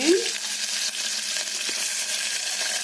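Chopped onions and green chilies sizzle loudly in hot oil in a pan, a continuous close hiss with a sharper burst at the start, while cooking a foxtail millet upma.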